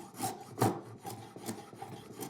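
A spokeshave cuts wood held in a vise, with several short rasping strokes in an uneven rhythm, close and fairly quiet, with no talk.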